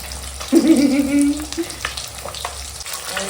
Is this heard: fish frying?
yes